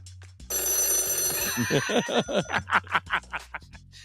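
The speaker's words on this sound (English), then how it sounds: "His phone's ringing." A telephone bell rings loudly and close, a sustained trill after a brief quiet opening, with snickering laughter breaking in and rising over it toward the end.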